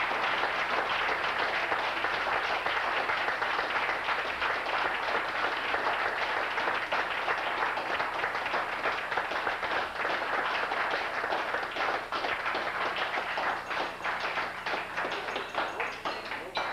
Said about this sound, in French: ça mériterait une bonne main d'applaudissement, je pense, mesdames et messieurs, pour les mariés